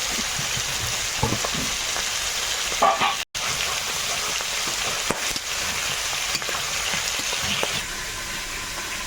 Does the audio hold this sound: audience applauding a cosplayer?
no